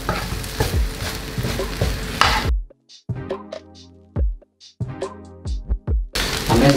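Nasi goreng Padang made with chocolate is stir-fried in a pan, with loud sizzling frying and repeated scraping stirs that come in bursts separated by brief quiet gaps.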